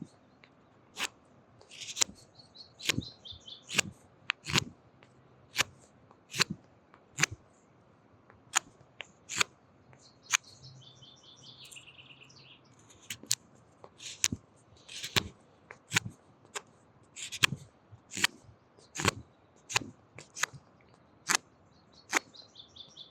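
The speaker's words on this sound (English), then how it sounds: "we're going to want to cut the wood so that there's just a single edge over here" A knife whittles a small wooden bird from a 1x1 block, making a steady series of crisp, close cutting snaps and scrapes at irregular intervals, with birds chirping faintly in the background.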